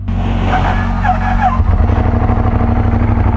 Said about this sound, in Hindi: ये रहा डुकाटी का कोल्ड स्टार्ट।